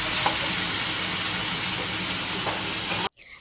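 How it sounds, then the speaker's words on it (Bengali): Minced meat sizzles in one pan with whole garam masala and bay leaf while potatoes fry in another, a steady dense sizzle with faint stirring clicks running for about three seconds before cutting off abruptly. "এখানে কিমাটাকে একদিকে কষানো হচ্ছে, ফোড়ন দেওয়া হয়েছে গরম মশলা, তেজপাতা, আর আরেকদিকে আলুটাকে ভাজা হচ্ছে"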